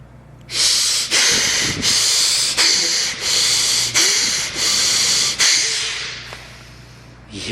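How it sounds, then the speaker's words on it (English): Slow, deep belly breaths during a guided meditation, about seven long airy inhale-exhale cycles, close and loud with a hissing, steady rhythm and no talking. "start breathing long, breathing from the belly"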